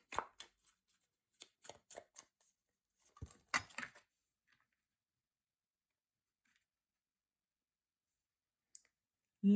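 Tarot cards being drawn and laid out for a reading: a quick run of crisp papery clicks and slaps in two bursts near the start, then quiet with a faint tap later and a sharper knock at the end.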